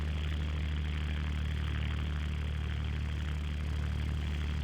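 Spitfire Mk1 Merlin engine in Microsoft Flight Simulator running after start-up, a steady, throaty, deep low rumble with a constant droning hum and no pauses, loud and close, with no talking.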